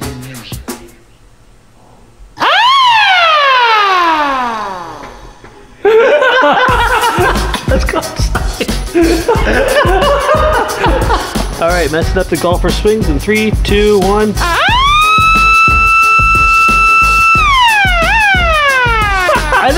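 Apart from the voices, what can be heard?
small 12-volt siren on scale RC Stuka model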